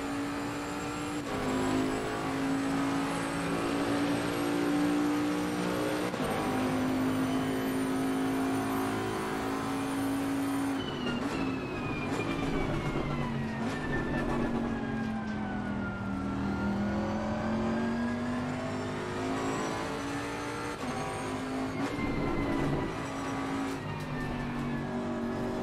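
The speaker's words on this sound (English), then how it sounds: "This car is an absolute joy to drive though, the Bentley." Bentley race car engine in Assetto Corsa Competizione at Suzuka, a loud sustained drone that rises and falls through gear changes and revs, with a shifting whine throughout.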